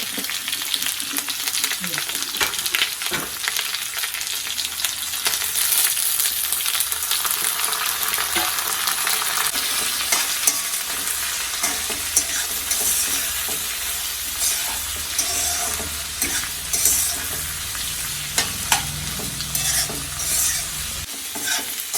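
Shallots and small onions for a Kerala chundanga ulli theeyal stirred and frying in a pan, a steady broadband sizzle with scraping stirs throughout, close and fairly loud, no talk.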